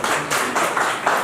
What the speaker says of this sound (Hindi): ताली बजा दे रहे हैं।